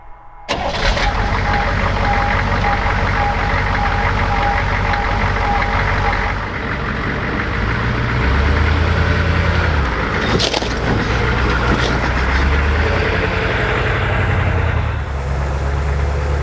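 A HMMWV's engine runs steadily throughout, a loud continuous rumble that fills the cab, with a brief jolt near the middle; no one speaks.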